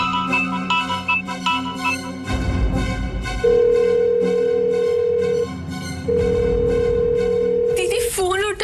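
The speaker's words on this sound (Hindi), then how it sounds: "दीदी फोन उठाइए।" A phone call to a sister rings unanswered: two long, steady ringback tones sound one after another over background music and bursts of dramatic sound.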